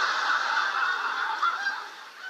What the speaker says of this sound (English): that is the sound of my wife sobbing.